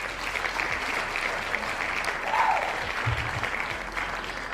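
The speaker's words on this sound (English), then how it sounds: "Let's get some more claps over here" Applause plays as a sound effect on a live futures trading stream, a steady wash of crowd clapping holding at moderate level for several seconds, with faint talk mixed underneath.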